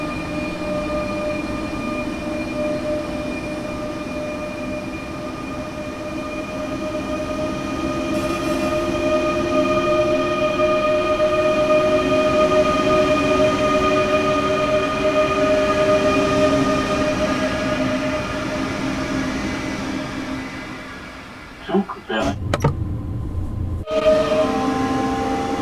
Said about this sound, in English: The sounds of this train are so nice.